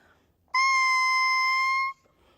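A bare double reed buzzes out one steady, thin, nasal tone for about a second and a half, alone and fairly loud, sounding almost like a mosquito.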